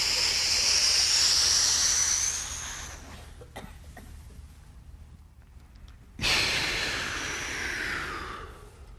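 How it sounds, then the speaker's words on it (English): A deep breath drawn in and let out, loud, close, airy hissing, fading into a quiet pause, then a strong second rush of breath after about six seconds; no talking. "take as deep a breath as you can"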